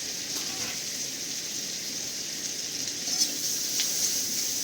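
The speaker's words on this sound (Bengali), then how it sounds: "আর বাটারে আমি এই ভেজিসগুলো ভেজে নেবো।" Chopped onion, capsicum and tomato fry lightly in butter with a steady, even sizzle, close by, with a couple of faint stirring scrapes near the end.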